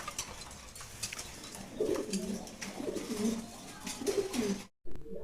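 Danish beauty homer pigeons at a pigeon market give repeated soft, throaty coos close by over faint background noise, and the sound briefly cuts out near the end.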